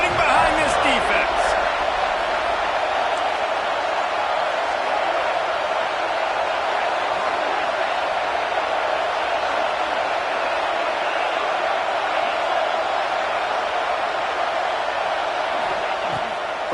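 A college football stadium crowd roars steadily for the defense on a big third down in the red zone, a loud, continuous wall of cheering with a commentator talking over it.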